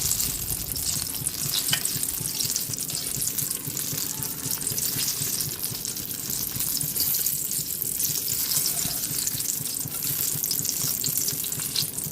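Sliced eggplant fries in hot oil, giving a steady, dense sizzle and crackle that holds at an even level for the whole stretch, with no talking.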